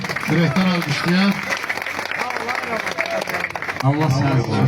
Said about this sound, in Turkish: Bir alkış gelsin. Yürekten alkışlayan.